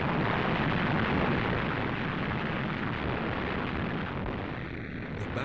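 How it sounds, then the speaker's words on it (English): Artillery bombardment at El Alamein in 1942, a dense continuous rumble of explosions, loud and sustained throughout, easing slightly toward the end. "the British opened up an artillery bombardment on Rommel's positions."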